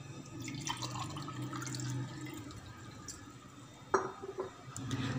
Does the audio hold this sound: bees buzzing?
no